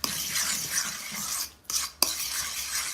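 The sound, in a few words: whisking three eggs in a bowl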